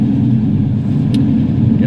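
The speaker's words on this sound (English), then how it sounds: "she needs about 1300 RPM just to idle at this temperature" LPG-fuelled car engine idling at about 1300 RPM on a zero-degree cold start, a steady close low rumble with even pulsing, heard from inside the car.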